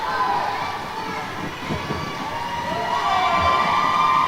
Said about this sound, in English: And the crowd literally goes wild.